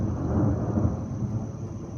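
Rumbling thunder from a line of storms overhead, a steady low roar with no distinct crack, continuous and fairly loud for the whole stretch.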